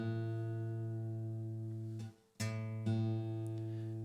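A sustained guitar note rings steadily while a second string is tuned down toward the sixth string, with a brief dip and re-pluck before the two tones settle together; close and quiet, with no talking.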